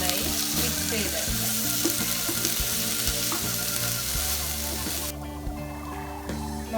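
Koorka (Chinese potato) stir-fry sizzles and crackles in a pan while it is mixed, a close, steady frying hiss with soft stirring knocks that thins out near the end, with no voices.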